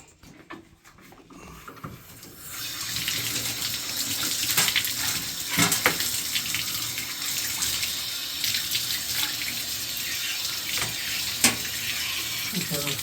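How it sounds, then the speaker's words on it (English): Water running from a tap beside a bathtub while something is rinsed off, a steady hissing gush that starts after a quiet moment and continues close and loud, with a few clunks. "let me just rinse this off here"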